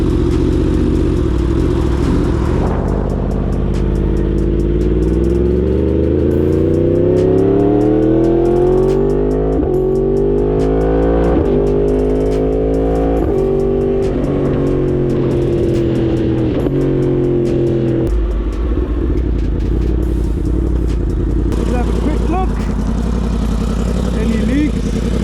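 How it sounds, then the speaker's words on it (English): A 2023 Yamaha R1 motorcycle, rebuilt after a wreck, is ridden on the road, its engine climbing in pitch through the gears and then settling into a steady drone, close and loud. "I'm just gonna go around somewhere close just so I can get a feel for this bike"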